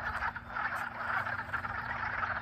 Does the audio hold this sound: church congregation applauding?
no